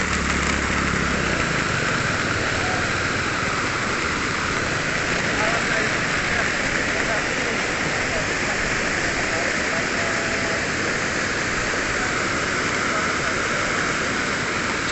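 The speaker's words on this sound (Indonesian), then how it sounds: "Jadi kalau hujan kondisinya seperti ini ya" Heavy rain pouring onto a road, a dense continuous hiss and patter at steady loudness that stays strong throughout, with an engine faintly audible underneath.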